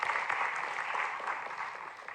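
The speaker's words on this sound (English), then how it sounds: "So give yourselves a round of applause." A college campus audience at a student town hall claps briefly, a dense even patter of many hands heard at moderate distance.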